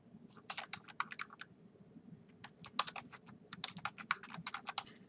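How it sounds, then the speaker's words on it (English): Typing a message on a computer keyboard in a quiet room, with steady bursts of light, rapid key clicks separated by brief pauses. "and type a message."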